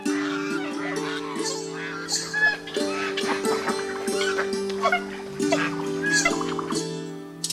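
Farm ducks calling in a series of short, nasal quacks over a steady musical drone, with a voice also present.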